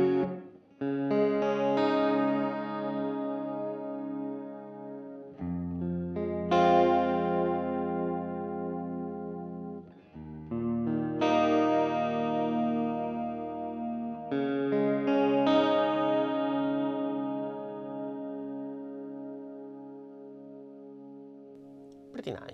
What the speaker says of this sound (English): you have also the modulation that you can apply to the reverb.